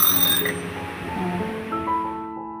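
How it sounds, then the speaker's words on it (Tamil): A kitchen timer alarm rings with a bright, steady electronic tone for about two and a half seconds, close and loud, with no talking. "இப்போ அலாரம் கேட்கும்."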